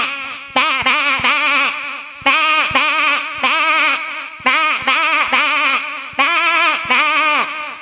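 A performer's voice imitates a lamb bleating after being struck, giving a loud series of quavering, crying bleats in four bursts of three or four cries each, with short gaps between bursts.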